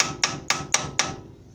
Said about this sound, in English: I'm just gonna tap it with a hammer